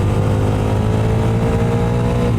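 A Bajaj Dominar 400 motorcycle engine revving as it drops into fourth gear while riding, a loud, close, steady droning roar with layered harmonic tones and no voices.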